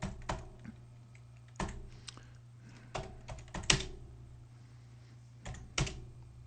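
Close keystrokes on a computer keyboard as a Linux command is typed, irregular clusters of clicky taps and heavier thunks spread across several seconds, with no voice over them.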